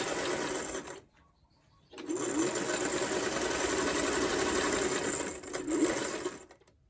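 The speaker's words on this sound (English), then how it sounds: "So I'm pulling, so I'm going along, and I'm doing the top stitch." A sewing machine top-stitches a fabric face mask in two runs, a steady fast mechanical whirr broken by a short pause, with slight speed changes and a brief stop near the end.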